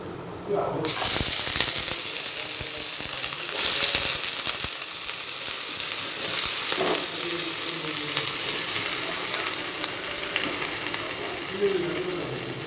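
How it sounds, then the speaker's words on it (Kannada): Radish pieces dropped into a pan of fried garlic, setting off a loud, sustained sizzle and hiss that carries on steadily, with stirring noises and a voice talking over it. "ಬೆಳ್ಳುಳ್ಳಿ ಫ್ರೈ ಆಗಿದೆ ಈಗ ಮೂಲಂಗಿಯನ್ನು ಹಾಕೋದು"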